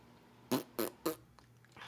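Three short, loud fart bursts in quick succession, evenly spaced, followed by a quieter low rumble against background hum.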